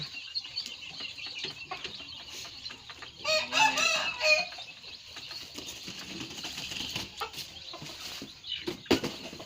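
Chickens being moved down to a rice field cluck steadily, with a burst of louder crowing and wing flapping partway through and softer scattered clucks around it.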